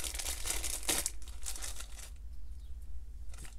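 Crinkling plastic bag holding individually packed fishing lures from a monthly tackle box, handled up close in short rustling bursts, then quieter handling with a faint steady hum underneath.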